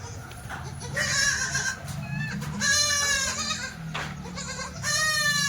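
Goats bleat repeatedly on a farm where does have just kidded, with several wavering calls close by over a low rumble of background noise.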